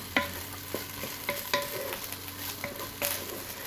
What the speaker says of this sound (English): I put in about half of the rice. I'm gonna mix it up